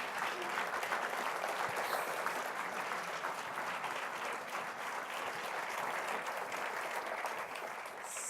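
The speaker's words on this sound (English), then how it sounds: "just one more round of applause for these panelists." Steady round of applause from an audience for panelists at a healthcare technology discussion, even, continuous clapping heard at moderate distance without speech.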